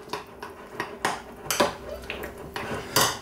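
Pear pieces are stirred in a bowl, with a spoon tapping and scraping against the dish in a quick, uneven run of close clinks and knocks and no talk.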